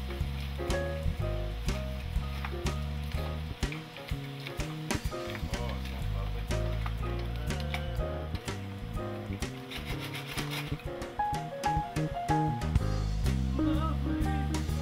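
Frozen vegetables are stirred in butter on a BBQ, producing repeated scraping and rubbing strokes of a utensil against the pan, close and fairly loud over a faint sizzle and background music.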